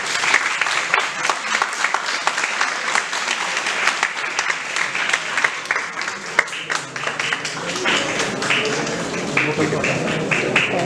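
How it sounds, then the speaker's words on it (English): A crowd at a Human Rights Day program applauds at length, thick continuous clapping from many people, with voices faintly mixed in underneath as it carries on. "Let's fill the house with applause, everyone,"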